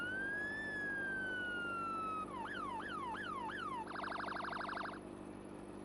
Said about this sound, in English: there's 3 different sirens.